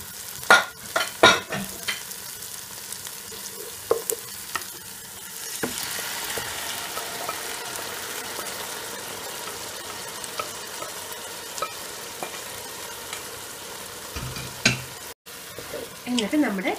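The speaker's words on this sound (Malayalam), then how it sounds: "ഇതിലേക്ക് നമ്മളുടെ മട്ടൺ വേവിച്ച് വെച്ചതിനെ ചേർത്ത് കൊടുക്കാം." Cooked mutton stirred into tomato masala for a Malabar mutton kuruma, sizzling steadily in the pan with repeated scraping strokes of the spoon, close and moderately loud, and faint talk now and then.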